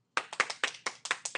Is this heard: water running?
no